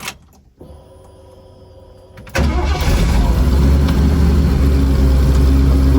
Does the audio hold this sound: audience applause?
no